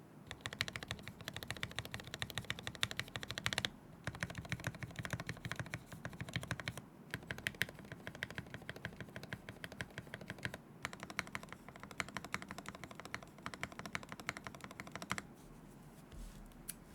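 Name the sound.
typing on mechanical keyboard with palm jelly keycaps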